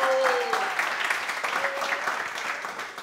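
Studio audience applause on a French TV game show, a full burst of clapping that stays steady, with a brief voiced tone rising above it near the start.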